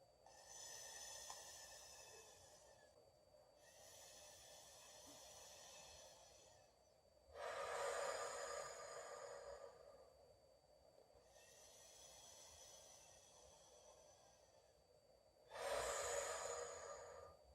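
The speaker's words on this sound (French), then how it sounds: "Vous inspirez avec la paille, comme ceci." Breath drawn in slowly through a straw, several long airy hissing inhales separated by pauses, with two louder, fuller breaths standing out, close and alone without talk.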